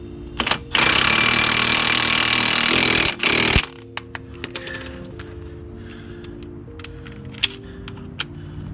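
Pneumatic impact gun tightening spindle bolts on a 2001 Lexus IS300, two loud rattling bursts of about two seconds each, followed by quieter clinks and handling noises.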